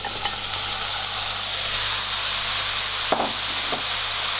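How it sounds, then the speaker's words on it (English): Cranberries cooking down with honey, sugar and orange zest in a pan give off a steady bubbling sizzle, with a few soft spoon knocks as the mixture is stirred. "give it a quick stir."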